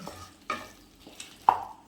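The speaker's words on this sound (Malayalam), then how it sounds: "വറുത്ത് വെച്ച കോളിഫ്ലവർ ആഡ് ചെയ്യുന്നു. ഇതിലേക്ക് നന്നായിട്ട് ഇളക്കി ചേർക്കുന്നു." Fried cauliflower stirred into a pan of dry Gobi Manchurian, with a few separate scraping, clattering strokes against the pan over a soft sizzle, the last stroke sharpest.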